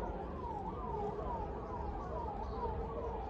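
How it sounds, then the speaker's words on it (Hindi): A wailing ambulance siren sweeps up and down repeatedly in the distance, partly buried under steady traffic noise and a nearby engine hum. "आवाज आ रही है आपको एम्बुलेंस की?"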